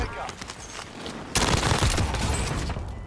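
Gunfire in Call of Duty Warzone erupts in a sudden loud rapid burst of shots midway, after quieter game sounds, with a voice heard over it.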